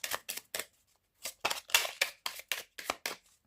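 A deck of tarot cards being cut and handled at a reading table, a run of about ten short, crisp riffling and slapping bursts in quick rhythm, close and fairly quiet, with no talking.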